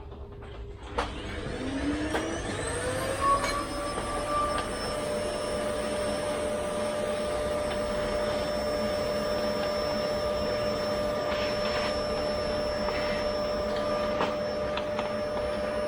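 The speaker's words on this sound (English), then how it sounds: "Gonna have to get the vacuum cleaner in there." A vacuum cleaner starts up, its whine rising in pitch, then runs steadily with a constant loud drone and high hum.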